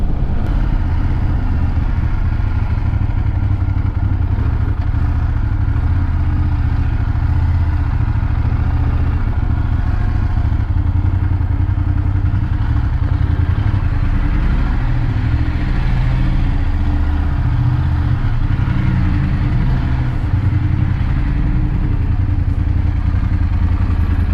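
A motorcycle cruising at a steady speed of about 51 with cruise control engaged, its engine droning evenly with road and wind rumble for the whole stretch, no talking.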